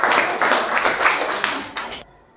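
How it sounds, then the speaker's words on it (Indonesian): A short burst of applause from a small group, crisp claps for about two seconds that stop abruptly into silence. "Oke, tepuk tangan untuk Dina Thoyibah."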